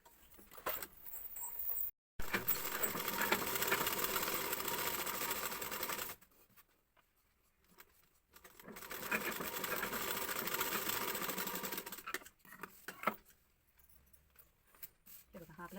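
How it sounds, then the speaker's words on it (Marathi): Sewing machine stitching a blouse neckline along a cut design, running in two long steady bursts with short pauses between them, fairly close and clear with little else around it. "त्याच्या अलीकडून शिलाई मारून घ्यायची आणि ती शिलाई मारल्यानंतर आपला ब्लाऊज"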